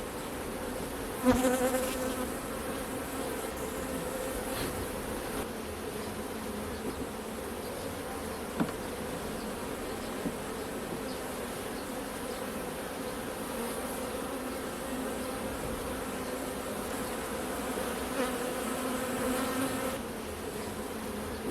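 Steady, dense buzzing of many honeybees close by around an open hive during inspection, continuous throughout with no voices.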